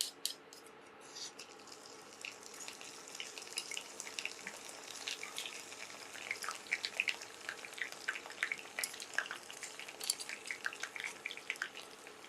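Crushed herb leaves sizzling in hot oil for a homemade knee-pain oil: a steady, faint crackling fizz with scattered bright pops, close by and with no talk.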